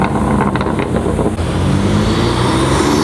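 Loud, steady engine and intake roar from a BMW M3 fitted with front-mount turbo intakes, filling the whole span with dense noise and a brief dip partway through, with no talking.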